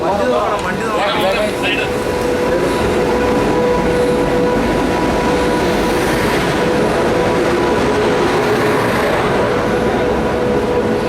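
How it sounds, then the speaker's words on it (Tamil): A train pulling in, heard as a loud, continuous rumble and rolling wheel noise with a sustained whine, with voices talking over it near the start. "ட்ரெயின் வருது"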